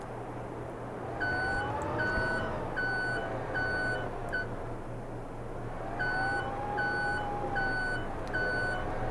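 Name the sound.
forklift driving and reversing beeps in Farming Simulator 22 video game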